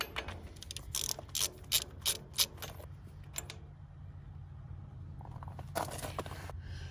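A hand ratchet clicks in quick bursts while spark plugs are backed out of a 1943 John Deere B tractor engine, a run of close, sharp ratcheting strokes, a pause, then another short burst.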